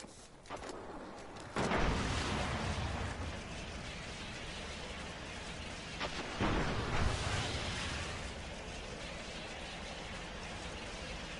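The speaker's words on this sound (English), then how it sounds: "Nice rocket." Rocket explosions in the video game Smite: two loud booming blasts a few seconds apart, each trailing into a long rumbling roar over continuous game noise.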